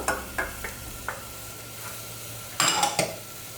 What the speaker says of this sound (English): Now I'm adding the peas. Give it a good stir. And then the cauliflower.